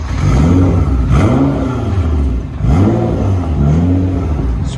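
An Aston Martin DB11 engine with its muffler removed revs hard three times in close succession, each loud rising blip falling back toward idle with no talking.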